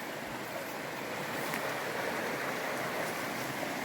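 A river flowing beside a hazelnut orchard in Balakən, a steady dense rush of water heard close and continuous with no other sounds.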